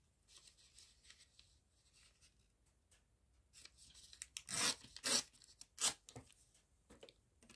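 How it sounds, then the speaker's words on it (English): Paper scraps are torn by hand at a crafting table for a scrappy frame, quiet rustling and rubbing at first, then several loud sharp rips in quick bursts near the end, close and without talk. "So just going to tear it down and glue it on."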